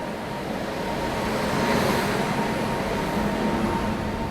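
Mysuru–Tiruvananthapuram train pulling into a station behind a WAP-7 locomotive, heard as a steady broadband rumble of rolling coaches that rises briefly midway and holds at a moderate level, without voices.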